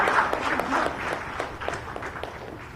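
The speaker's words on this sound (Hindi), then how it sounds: "इस वक्त दीप प्रज्वलित कर जोरदार तालियां आपकी तरफ से होनी चाहिए, जोरदार तालियां।" Crowd applause at a lamp-lighting ceremony launching a sports policy event in Ranchi, a loud, dense wash of clapping that stays fairly even and slowly eases off toward the end.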